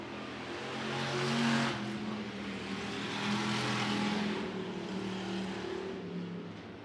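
Hobby stock race cars running single file on a dirt oval at El Paso County Raceway, a continuous broadband engine roar that swells and fades as cars pass, heard at a moderate distance with no speech.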